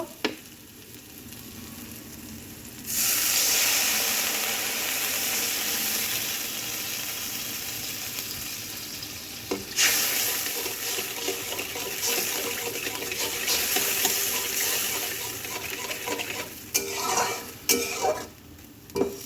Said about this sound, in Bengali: দেখুন, মশলা ভাজা ভাজা হয়ে গেছে, তেল বেরিয়ে যাচ্ছে। এবার দিয়ে দেব জল দিয়ে দেব